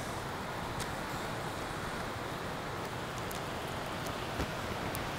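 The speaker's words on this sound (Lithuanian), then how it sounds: "Ir vėl lyja." Steady rain falls in a town, a continuous hiss with faint road traffic mixed in and occasional sharp drop ticks, heard alone without talk.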